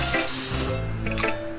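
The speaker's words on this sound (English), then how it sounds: "You were just spraying a fly." An aerosol can sprays at a fly in a short, loud hiss lasting well over half a second, followed by quieter clatter and a brief thump.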